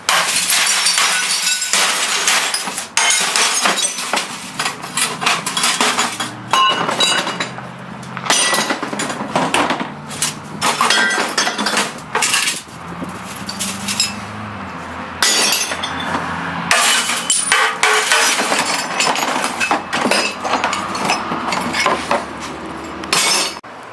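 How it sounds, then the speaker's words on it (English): Old CRT television being dismantled by hand, its glass smashed and broken apart in a long run of loud, close cracks, shattering and clinking fragments with brief pauses between strikes. "now I'm going to break up the rest of the glass to get inside here"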